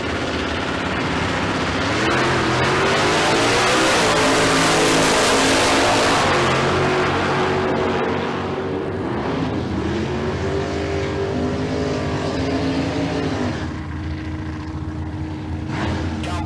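Drag racing cars at a bracket race at Tucson Dragway, a Mustang and a 1974 Dart, roar loudly down the strip in a full-throttle pass, engine notes rising and shifting before fading away.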